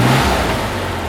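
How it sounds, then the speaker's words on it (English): A 1963 Chevrolet Corvair Monza 900 engine gives a brief, close, rough rev burst that quickly settles into a steady running drone. "Go ahead and rev it again."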